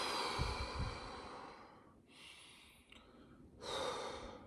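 Deep breathing during meditation: a few long, slow breaths in and out, close and moderately loud, with soft airy hiss and no talking.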